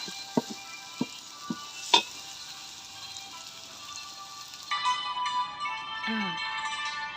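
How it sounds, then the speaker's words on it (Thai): Crushed peanuts for a khanom thian filling are stir-fried in a pan, giving a faint sizzle with a few light spatula taps and scrapes while someone speaks. "ตามด้วยถั่วเลยนะ แล้วผัดให้ได้ที่นะคะ"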